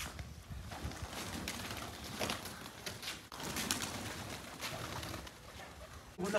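Pigeons coo softly against a busy, noisy background, with low murmuring calls repeating throughout.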